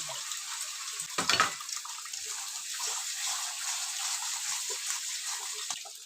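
Potatoes being sautéed with a ground peanut and dried chilli spice paste for Bengali egg curry, producing a continuous soft sizzle with a brief louder stir or scrape early on and occasional small clicks, no voices.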